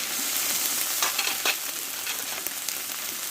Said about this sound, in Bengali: দেখো মশলাটা ভালো করে একটু কষে নেবো দেখো টমেটোটা আমি দিয়ে দেবো এতে